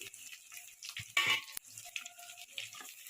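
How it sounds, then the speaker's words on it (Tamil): Large onions sautéing in a pan over a low flame give a light, patchy sizzle, broken by a short louder burst of frying and faint scraping as they are stirred. "நல்லா வணக்கிட்டே இருங்க கம்மியாக வச்சு மனசில் பெரிய வெங்காயத்தை"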